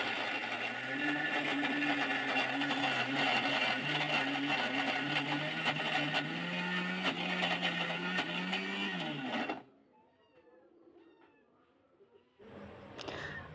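Electric grinder whirring steadily as it grinds spices in a home kitchen, a loud continuous motor drone that stops abruptly, leaving quiet room ambience and faint bird chirps.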